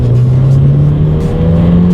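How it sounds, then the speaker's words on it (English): A 2018 Ford Fiesta ST with a 6-speed manual accelerates hard, its engine note a steady, loud rising drone that dominates throughout, with no talking over it. "The 6-speed manual in the Fiesta ST is brilliant, and definitely a fun acceleration."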